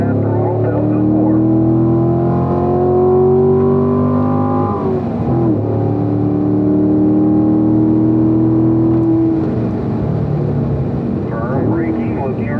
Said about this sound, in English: go ahead and squeeze that throttle pedal to the floor